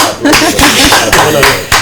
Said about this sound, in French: Vous l'avez dit, on applaudit.